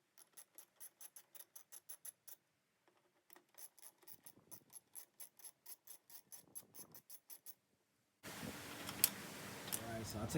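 Ratchet wrench with a 13mm socket and extension clicking in steady rapid bursts while backing out strut bolts on a BMW E90 328i, pausing between runs, then a loud broadband rush of noise near the end.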